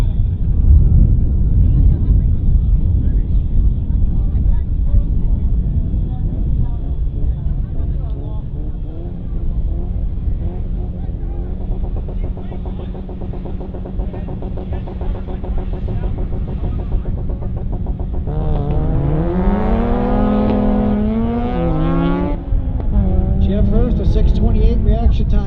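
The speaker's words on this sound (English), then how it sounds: "That all-wheel drive Mitsubishi leaping off the line" An all-wheel-drive Mitsubishi launches off the line at a drag race, the 2014 DC Pro's Super Challenge. Its engine roars loudly throughout, and sharply rising revs near the end suggest gear changes, with an announcer talking over the noise.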